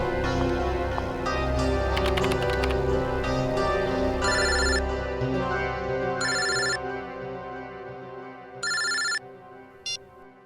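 A telephone rings loudly indoors in a tense crime-drama scene, its repeated electronic rings sounding in bursts over a steady background music bed with no talking.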